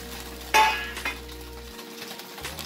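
Food fries in ghee or oil in a pan, giving a soft continuous sizzle with a sharp clatter of a utensil early on and a lighter knock after it.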